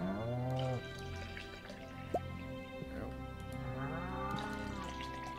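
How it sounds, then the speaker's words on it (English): Cows in the farming video game Stardew Valley moo in drawn-out, wavering calls, one near the start and another a few seconds later, over soft game ambience. "Cows."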